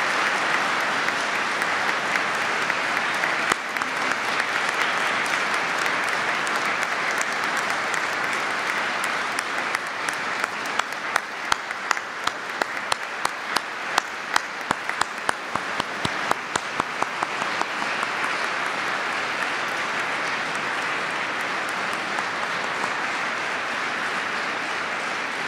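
An audience applauds after a choir performance of Dittersdorf's Requiem with dense, sustained clapping that fills the hall for the whole stretch, a few sharp individual claps standing out midway.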